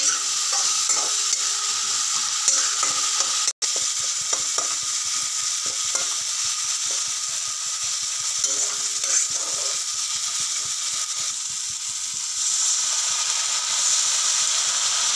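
Masala with turmeric and cumin powder fries in a pan for a paneer dish, a steady close sizzle and hiss broken by constant scraping stirs and one brief dropout.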